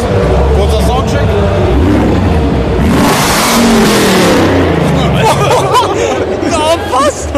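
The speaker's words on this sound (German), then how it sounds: "Ich halte das Mikrofon jetzt voll in den Auspuff. Kurzer Soundcheck." A car engine revs loudly with the microphone held right inside the exhaust, giving a harsh, booming roar that swells and drops. A crowd babbles at a car show, and someone talks nearby.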